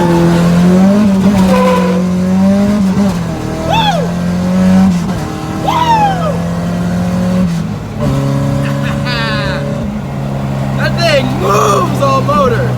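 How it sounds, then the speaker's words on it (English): Car pulling hard off a traffic light on engine power alone, nitrous shut off, a loud sustained engine roar climbing through gears with tire noise, heard from inside the cabin with a voice talking over it. "I'm just gonna do an all motor pull off this light."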